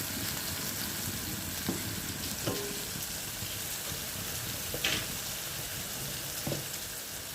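Mustard seeds and dried red chillies sizzle in hot oil in a home kitchen pan, a steady close frying hiss punctuated by a few sharp pops and crackles.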